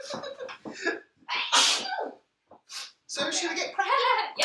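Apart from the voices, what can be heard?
person sneezing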